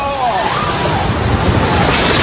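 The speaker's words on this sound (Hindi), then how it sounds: "हाई टाइड की वजह से उठी समंदर की ऊंची लहरें सारी सीमाएं लांघ कर रेस्टोरेंट में घुसी" High-tide ocean waves in Cape Town, South Africa, surging over a seafront restaurant, a loud continuous roar of surf and rushing water with wind noise throughout.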